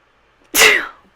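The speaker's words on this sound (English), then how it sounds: "Oh my gosh, I have to sneeze." One sharp, sudden sneeze bursts out close to the microphone, loud and airy, then trails off quickly into quiet.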